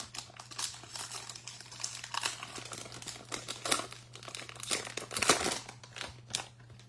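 The foil wrapper of a Bowman baseball card value pack crinkles and tears close up, a busy stream of irregular crackling and rustling over a low steady hum, with no talk.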